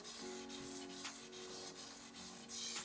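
A knife blade tip being sharpened on a whetstone, heard as a faint, steady rhythmic rasp of steel stroked back and forth across the stone, about seven even strokes, close and without talk.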